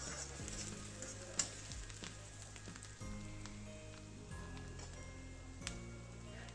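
Onions fry quietly in an iron kadai for bhindi sabzi, a soft sizzle with light ticking and crackling pops. Faint stirring scrapes come through, and no one speaks.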